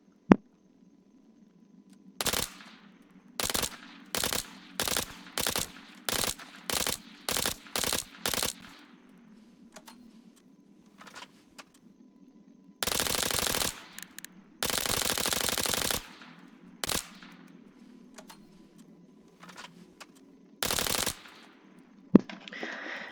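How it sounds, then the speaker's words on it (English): Suppressed L92A1, a silenced MP5 variant, fired in Arma 3: a string of short rapid bursts at a steady rhythm, followed by a few longer sustained bursts and scattered single shots, loud and close with no talking. "the L92 A1, which is the suppressed variant of the MP5. Exactly the same stats, just it's quieter, so let's hear it"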